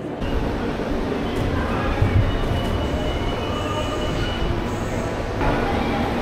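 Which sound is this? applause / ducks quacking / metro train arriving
metro train arriving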